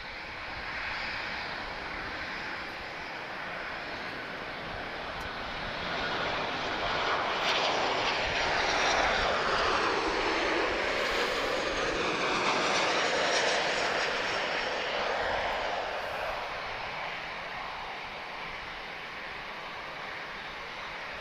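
A Turkish Airlines airliner on the move at Lisbon Airport gives a steady, broad jet roar that swells in the middle and eases off, carrying alone at a moderate distance.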